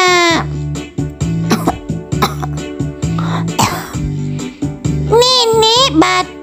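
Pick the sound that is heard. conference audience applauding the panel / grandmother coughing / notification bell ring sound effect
grandmother coughing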